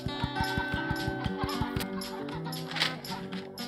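Chickens cluck in the Egg, Inc mobile farming game, quick fowl calls layered over rhythmic, repeating electronic game tones, fairly quiet and with no talking.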